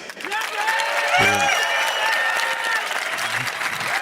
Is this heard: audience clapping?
yes